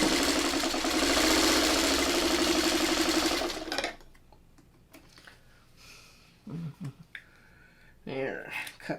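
A sewing machine stitches quilt pieces in a fast, continuous mechanical whir for about four seconds, then stops, leaving quiet handling sounds and someone talking.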